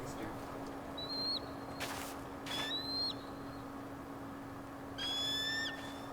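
An eagle in the Tell Me Why video game gives short, sharp whistled calls in three bursts over a steady low hum and faint background, with brief noisy thumps between the calls.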